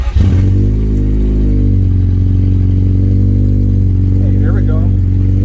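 Honda Integra engine firing up for the first time after an OBD1 ECU conversion, cranking briefly then catching into a loud, steady idle that holds close and constant throughout.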